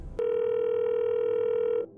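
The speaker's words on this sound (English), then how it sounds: "A person named Tom's voicemail goes off, and someone else leaves a message" A telephone voicemail tone sounds as one loud, steady electronic beep lasting well over a second, starting abruptly and cutting off cleanly.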